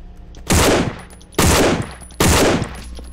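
Three loud, evenly spaced gunshots from a zombie shooter game, No More Room In Hell, each a sharp broadband blast with a ringing tail, spaced under a second apart with no talk over them.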